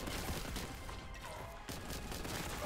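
An explosion in a Warhammer 40K video game bursts out as a dense, noisy roar of blasts and crackling debris, loud and close, with further bangs following across the moment.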